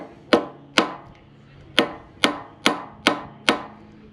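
Hammer flattening a brand new pin on a custom shop anvil during Cat dozer repair, seven sharp, loud, ringing strikes at a fairly even pace, each decaying quickly, with no talking.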